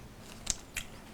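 Two crisp bites into a crunchy one-day koji-cured dill pickle give a pair of short, sharp snaps about a quarter second apart, close and quiet with no talking.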